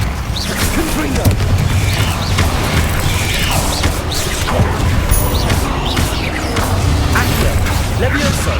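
Spell blasts and combat effects in the Hogwarts Legacy video game, with dense whooshes, crashes and mechanical clatter playing loudly and continuously, while voices shout incantations over the action.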